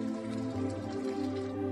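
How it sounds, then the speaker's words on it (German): Warm water pours steadily into a Beurer FB50 foot bath, a continuous close splashing and trickling with a faint steady hum underneath. "Befüllen Sie das Gerät maximal bis zur Füllmengenmarkierung mit warmem Wasser."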